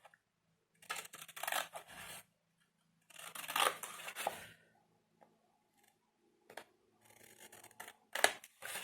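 Scissors cut straight lines through thin cardboard box material in several separate bursts of close, crisp snipping and scraping, with quiet pauses between passes.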